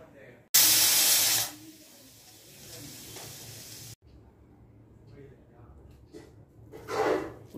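Pressure cooker cooking rice on a home stove lets out a loud hissing burst of steam for about a second, then a softer hiss and kitchen clatter follow, with a brief louder rush near the end.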